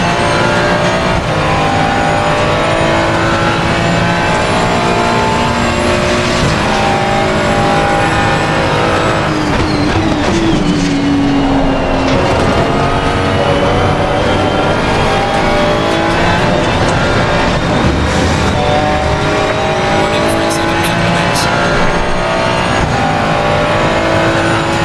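Ferrari 296 race car tearing around Monza in Assetto Corsa Competizione, a loud continuous engine roar rising and falling through gear changes and throttle lifts, with brief downshifts mid-lap and no voices.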